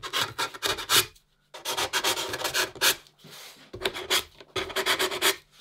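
Wooden dory floorboards get sanded by hand, a close, loud rasping rub in repeated rhythmic strokes, grouped into bursts with short pauses between, with no voices.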